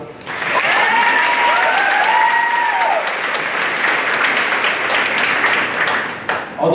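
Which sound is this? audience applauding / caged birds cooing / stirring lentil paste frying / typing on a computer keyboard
audience applauding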